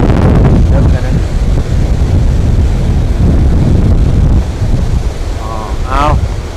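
Loud, continuous wind buffets the microphone over rushing waves on the Mekong River, with a brief voice near the end.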